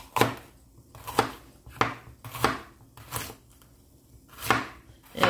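A green pepper is chopped roughly on a cutting board for a red snapper stew, giving about eight loud, evenly spaced knife thuds close up. No one talks.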